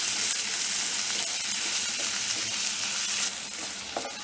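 Ginger garlic paste frying with onion and tomato in a pan, a steady bright sizzle and crackle that holds evenly throughout, close and fairly loud with no voices.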